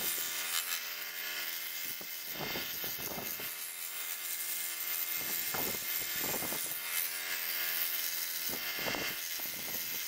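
Scroll saw freehand scrolling through wood letters, a constant high mechanical whine with several clustered bursts of cutting rasp, steady and close.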